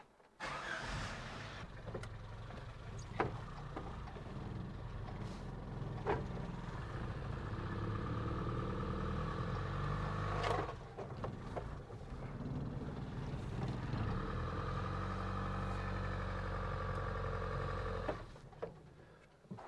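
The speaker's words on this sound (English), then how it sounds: "Time to pull the Hilux out of the garage for the first time in like 2 weeks and see how it looks." Engine of a 1973 Toyota Hilux running as it is pulled out of a garage, a steady low rumble at moderate distance with several sharp knocks and clunks scattered through.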